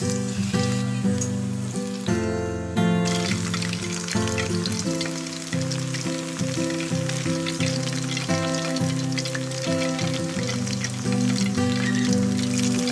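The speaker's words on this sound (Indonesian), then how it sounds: "Jadi tempe yang sudah dipotong-potong langsung dicelup satu persatu, kemudian kita goreng" Battered tempeh slices dipped one by one in tapioca batter and deep-fried in hot oil for tempeh chips, giving a steady bubbling sizzle up close with no talk.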